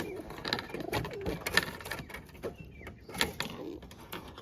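Pigeons coo softly in a pigeon enclosure, several low calls close by, mixed with faint rustling and some knocking.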